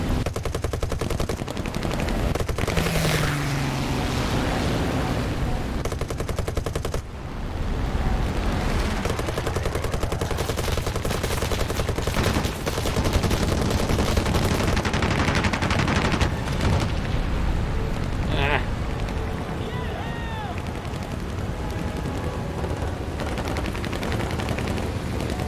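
Sustained machine gun fire from the War Thunder video game, loud dense rattling bursts that run almost unbroken for the whole stretch, with heavy booming undertones.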